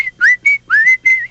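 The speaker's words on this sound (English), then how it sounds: "He was singing and whistling" A run of bright, melodic whistling in short phrases with rising slides, loud and close, separated by brief pauses, from a PlayStation 1 video game.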